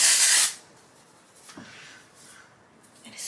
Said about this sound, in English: Texturing spray if you'd like.